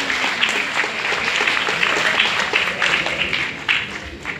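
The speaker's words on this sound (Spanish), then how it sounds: "Palmas fuertes para todos ustedes." Audience applause at a school award ceremony honouring students, a loud, dense burst of many hands clapping steadily throughout with no pauses, close and filling the room.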